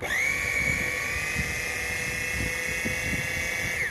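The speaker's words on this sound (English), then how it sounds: "now I can put the coconut and grind it" An electric coconut scraper runs at its slow speed setting, giving a steady high whine with a constant tone, close and loud, plus faint clicks and rattles beneath it and no speech.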